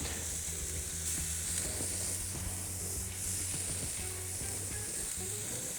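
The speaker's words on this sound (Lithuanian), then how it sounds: "Pradėsim nuo to, kad kepsnelius apkepsim ant tiesioginės kaitros." Rolled beef flank steak pinwheels sear over direct grill heat. A constant faint sizzle and hiss carries throughout, with a few soft clicks and a low hum beneath.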